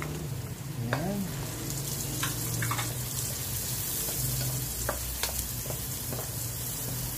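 Chopped onions sizzle steadily in a hot pan while chicken adobo is prepared, with faint scrapes and clinks of a utensil and a low background hum throughout.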